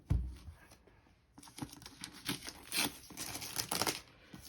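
An NZXT C650 power supply box is opened, its packaging crinkling and tearing in a loud burst at the start, then a run of scattered crackles and rustles that continues to the end, handled close by with no talk.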